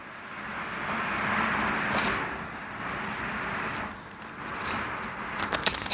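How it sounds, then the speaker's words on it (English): Road traffic leaks through the seams of a closed sliding balcony door as a muffled, steady rush, with passing cars swelling and fading faintly, and a few light clicks near the end. "that's where you can hear the sound of the traffic passing through"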